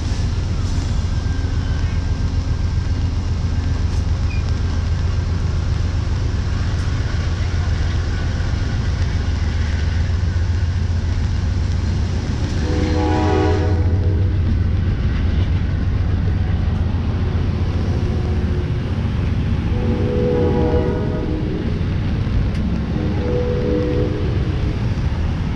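Low rumbling rail noise of an Amtrak train departing Old Orchard Beach station, Maine, rolls on continuously with a mechanical hum, rising and shifting as it pulls away; faint squeals and clanks surface midway.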